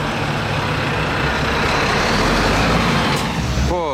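A truck rumbles past on a Monaco street, its heavy engine a loud, steady low drone throughout, with a brief hiss near the end.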